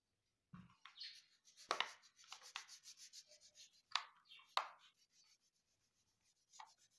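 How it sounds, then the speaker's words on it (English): Tissue rubbed over an oil pastel drawing on paper, a series of soft close scuffs and swishes in short irregular strokes, with quiet gaps between them and no talk. "So now let's start rubbing it with a tissue."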